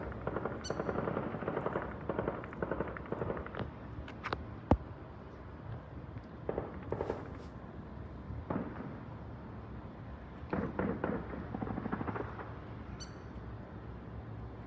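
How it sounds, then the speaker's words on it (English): Rifle fire in a firefight between IDF and Hezbollah fighters near the Israeli border sounds as scattered distant cracks and short bursts over a steady rumbling background, with one sharper report standing out. "The video right here lets us hear one of those firefights."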